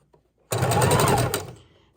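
A sewing machine stitches fabric pieces together in a fast, loud, continuous burst of needle clatter lasting about a second before slowing to a stop.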